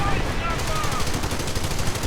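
A .30 caliber machine gun rattles off rapid, steady bursts in a video game battle, with a voice talking over the gunfire throughout.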